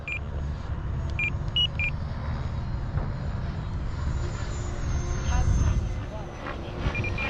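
An E-flite F-16 Thunderbird RC jet on 6S power flies on its maiden flight as a steady droning rumble, with a few short electronic beeps and muffled voices nearby.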